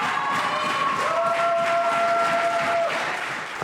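After a dance company's performance, a crowd applauds and cheers loudly, with dense sustained clapping and whoops and shouts rising above it, tapering slightly at the end.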